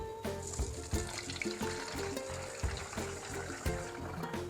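Liquid for a homemade termite remedy is poured through a mesh strainer into a spray bottle, giving a steady close trickle and splash with small clinks from the strainer and bottle.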